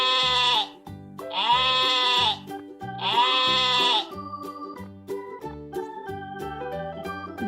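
Sheep bleating in three long, loud wavering calls, then fading into soft background music.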